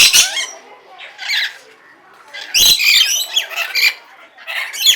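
Loud, harsh squawks from caged parrots at a farm attraction in Chavakkad, Kerala burst out in irregular clusters, close by, with short quiet gaps and a faint voice in between.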